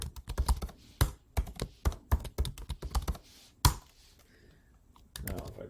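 Rapid keystrokes on a computer keyboard as a password is entered, a dense burst of close, crisp clicks followed by a pause and a few more taps, with faint speech in the background.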